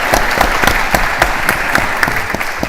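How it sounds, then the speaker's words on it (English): An audience at a conference on North American trade applauding a panel, dense and steady clapping from a full room that holds at an even level throughout. "let's give the panel a round of applause for great comments"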